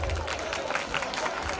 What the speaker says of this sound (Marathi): सर्व विद्यार्थ्यांसाठी एक वेळा जोरदार टाळ्यांचा गजर होऊ द्या.